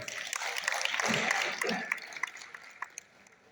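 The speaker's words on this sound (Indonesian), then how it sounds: "Tepuk tangan kita." Ballroom audience at an alumni halal bihalal gathering applauds in a moderate burst that tapers into a few scattered claps, with faint voices under it.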